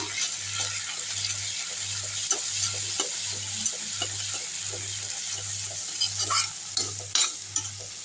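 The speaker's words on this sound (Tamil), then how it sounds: "தக்காளி சாஸ் எடுத்து இதில் ஊற்றிக்கலாம் நல்லா கிண்டி விட்டுருவோம்" Chicken in a hot pan sizzles continuously as a spatula stirs it through tomato sauce, scraping and clacking irregularly up close, with a steady low hum running underneath and no talk.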